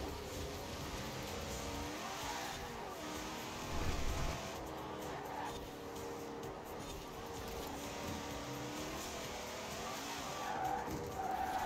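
A Twin Mill car in Forza Horizon 4 skids as its rear slides out, tires squealing over a steady engine drone that carries on throughout, with a brief louder surge partway through.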